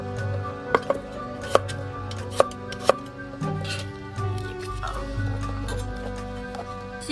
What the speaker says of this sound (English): Same thing with the garlic. You just chop them out as tiny as